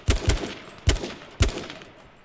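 Gunfire in the battle royale game H1Z1: King of the Kill, four sharp shots in two quick pairs with a gap between, fairly close and loud with no talk over them.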